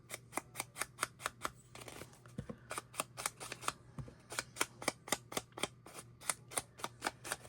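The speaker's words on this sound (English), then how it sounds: "the sound of daubers hitting paper to ink." Ink daubers tapping onto paper during decoupage: a close, sharp series of dry taps in a fairly regular rhythm, roughly three per second, with a brief irregular pause partway through, over a faint low hum.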